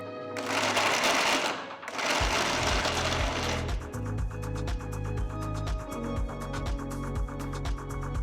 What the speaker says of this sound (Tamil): பாதி அளவு எடுத்து ஒரு மிக்சர் ஜாருக்கு மாற்றி பல்ஸ் மோடில் நல்லா அரைச்சிக்கலாம்